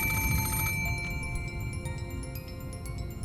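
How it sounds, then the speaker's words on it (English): A telephone rings in the Umineko visual novel game, a bright electronic trill that cuts off after under a second, leaving steady low hum and faint ringing tones beneath. "the ring of the phone, which had once sounded like a scream for help"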